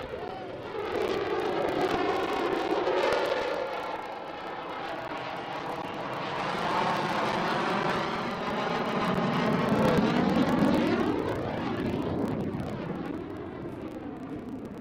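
Airplane flying at the Sun 'n Fun airshow at Lakeland Linder Airport, a continuous engine roar that swells and fades as it passes, with a sweeping Doppler shift, moderately loud in the open air.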